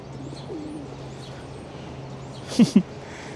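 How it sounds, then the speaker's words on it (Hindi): Two low, soft coos from a pigeon come close together near the end, over quiet outdoor background hum in a snowy park in Toronto in winter. "कितने सारे कबूतर हैं।"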